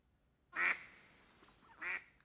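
Two nasal duck quacks, a short pause between them, stand out against a quiet background, the first louder than the second.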